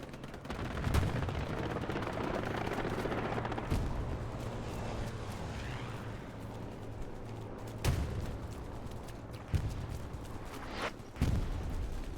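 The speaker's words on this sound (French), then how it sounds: "j'entends des coups de feu" Gunfire in the World War II shooter Hell Let Loose: scattered distant rifle and artillery reports crack over a low rumbling battlefield, with a few sharper nearby shots standing out.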